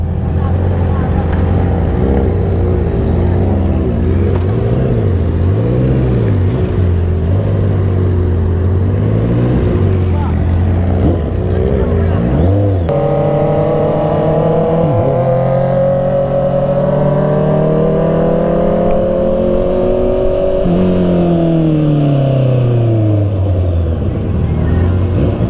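A Honda CBR650R four-cylinder motorcycle drones loudly at speed on an expressway, its engine tone rising and falling through gear changes with heavy wind roar throughout.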